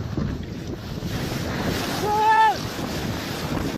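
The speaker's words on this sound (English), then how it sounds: "this cruise ship was on its way to Ireland when it ran into some pretty heavy waves" Heavy sea waves batter a cruise ship bound for Ireland, with a constant roar of wind and surging water, a swell of louder wash midway, and a brief rising-and-falling tonal whine standing out over the rumble.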